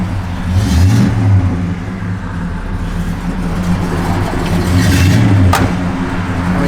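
A 1972 Oldsmobile 442 drives off down the road, its engine a loud, steady rumble that swells and revs twice as it pulls away, with no voices.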